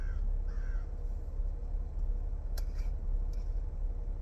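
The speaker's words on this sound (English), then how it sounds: "they're surrounding me. The crows." Crows surround the spot, cawing several times in short, hoarse calls, some nearer and some farther off, over a low outdoor rumble with a couple of sharp clicks.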